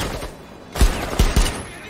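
Gunfire in Rainbow Six Siege, three loud booming shots spaced unevenly in quick succession over low background noise, close and punchy.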